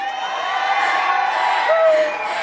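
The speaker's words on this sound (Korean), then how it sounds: "여러분들 한번 저희를 위해서 한번 응원 한번 해주실래요?" A crowd at the Anyang walking festival screams and cheers for a group, a loud, sustained chorus of high-pitched voices that holds steady throughout.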